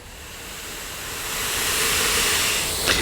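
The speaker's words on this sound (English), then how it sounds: "all you need to do is fill up the container with your grit, right? So let's pour it in." Abrasive sandblasting grit is poured into the container of a sandblaster used for bodywork. A broad rushing hiss builds steadily and swells louder toward the end, with a brief clatter near the close and no voices.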